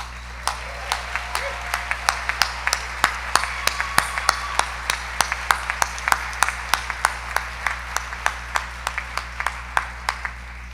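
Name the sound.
audience applause for teachers at awards event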